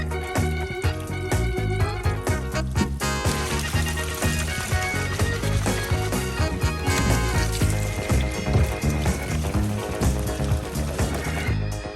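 Water spraying and splashing while a Mk1 Toyota Hilux 4WD gets scrubbed clean, a dense, steady wash of hiss and splatter heard close and loud over a full soundtrack of music.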